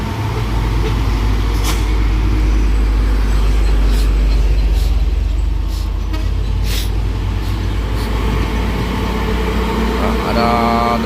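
Truck engine labouring up the steep Bukit Kodok hill climb, a loud continuous low rumble with roadside traffic noise and brief hiss bursts, with people talking faintly over it.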